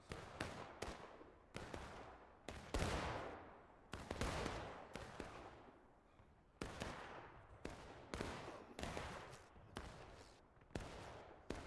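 Rapid bursts of squad gunfire trade back and forth in a video game firefight, sharp cracks and rattling volleys repeating over about twelve seconds with echoing tails, loud and close, no voices over the shooting.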